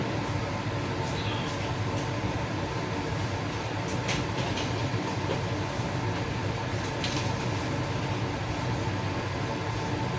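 A Jakarta–Cirebon passenger train runs along, heard from inside the carriage as a steady, close rumble with faint rail clatter and air-conditioning hum, and a voice talking faintly over it.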